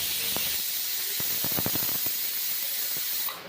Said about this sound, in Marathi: कुकरला झाकण लावून आता दोन शिट्ट्या होण्यासाठी ठेवून दिलेलं आहे